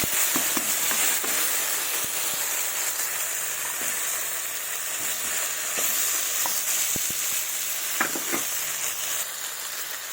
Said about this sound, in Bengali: এবার এগুলোকে ভালোভাবে মশলাটা দিয়ে আরেকটু কষে নেব।